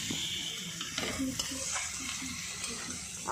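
Ridge gourd frying with shrimp in a pan, a soft steady sizzle with light stirring scrapes, fairly faint and close.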